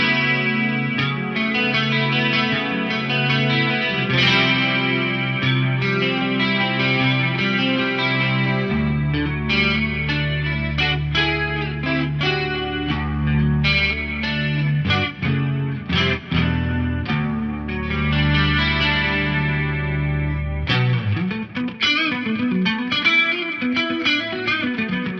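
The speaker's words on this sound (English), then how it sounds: "the Eventide H3500 doing a dual D tune" An electric guitar runs through a Cali 76 Compact compressor into an Eventide H3500 set to a dual detune, giving a lush, chorus-like shimmer as sustained chords and picked notes ring out loud and alone.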